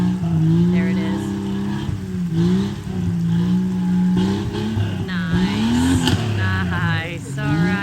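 A Jeep on an off-road trail revs its engine while dropping down into a dip, the motor note rising and falling close by under steady talk from people nearby.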